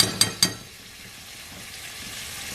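Meat added to a pan of fried onions for an Ottoman palace dish, a couple of sharp clanks and then a steady, soft sizzle close by.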